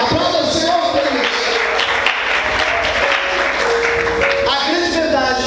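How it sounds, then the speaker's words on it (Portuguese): A church congregation applauds during a sermon, a full rush of clapping that swells and holds, with music tones and a voice audible beneath and around it. "Você pode aplaudir o Senhor e adorar ao nome de Deus"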